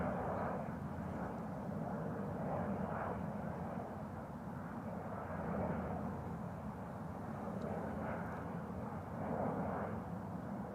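A KLM airliner at Amsterdam Schiphol Airport at dusk, a constant distant engine roar rising and falling gently with no voices.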